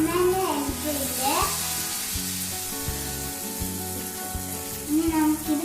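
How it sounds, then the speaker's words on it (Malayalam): Jackfruit pieces frying in hot oil give a steady, loud sizzle throughout, with faint rising and falling tonal sounds in the background. "ഇനി നമുക്കിത് പൊരിച്ചെടുക്കാം."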